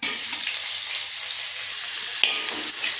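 Chopped carrot, onion and cabbage sizzle steadily in a pan while being stirred, a continuous close frying hiss with occasional soft scraping, no voices.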